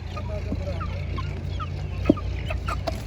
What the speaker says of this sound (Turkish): Burada ispenç yavrularımız var herhalde.